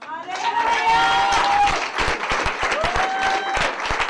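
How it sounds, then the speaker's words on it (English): Wedding guests clap together in a sustained round of applause, with a voice speaking over the clapping throughout. "Clap hands for them."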